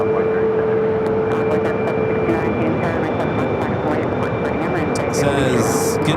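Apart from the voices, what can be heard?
Envoy airliner taking off from runway 7 left, Phoenix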